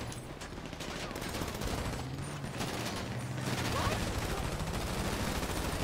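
Sustained gunfire in GTA, a dense, continuous barrage of rapid shots rattling on steadily at fairly even loudness for several seconds with no clear pauses.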